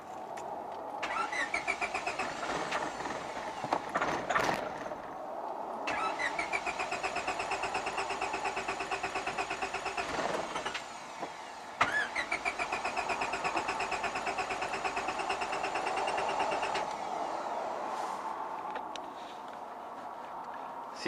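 A 1997 Honda Civic engine cranked on starting fluid, with repeated starter whirring in several bursts, catching briefly and running rough between attempts, heard close up and fairly quiet.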